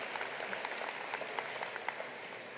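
An audience at a School of Management convocation applauds steadily, a dense patter of clapping heard from a distance, with no clear voices over it.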